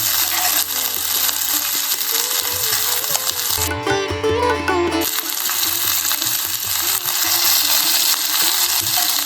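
Small mathi sardines fry on a slow flame in a pan, giving a loud, continuous close sizzle broken briefly by a clinking metallic interlude midway.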